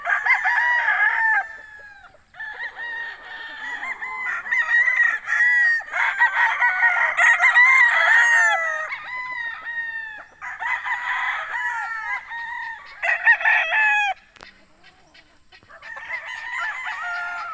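On a developing Philippine farm, many chickens and roosters cluck and crow almost continuously, overlapping calls rising and falling loudly nearby with brief pauses between bursts.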